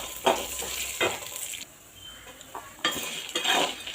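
Cashews and chana dal fry in oil while a spoon stirs them, producing short bursts of scraping and sizzling with a brief quieter gap in the middle.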